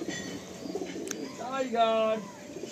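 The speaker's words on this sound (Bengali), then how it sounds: "নেক্সট একজোড়া সবুজ পায়রা থাকছে" A pair of green Madrasi pigeons coo at a pigeon sale, a couple of soft, rolling coos near and fairly faint, with a voice talking briefly at the start.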